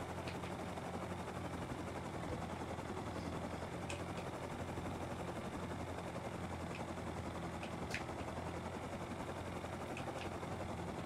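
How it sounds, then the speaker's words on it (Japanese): A helicopter in the game Rust drones steadily and loudly throughout, a dense broadband rotor wash with faint sharp clicks and pops over it and no talking. "新しいヘリが欲しいな。"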